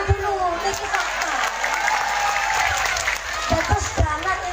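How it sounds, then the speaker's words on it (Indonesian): An audience claps together at an Indonesian Islamic sermon, a steady wash of applause running throughout with a voice speaking over it. "Dan ya tepuk tangan dulu"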